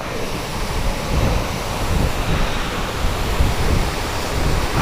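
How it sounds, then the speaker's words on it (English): Loud steady wind rush buffets the microphone while riding a 2015 Yamaha R3 motorcycle, a continuous broadband roar with no pauses and no talking. "feel that wind"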